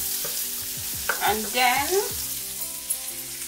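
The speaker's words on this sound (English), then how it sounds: "So we're gonna melt the stick of butter," A stick of butter melts in a hot pot for a Jamaican seafood boil sauce, giving a steady, bright sizzling hiss beneath a person talking.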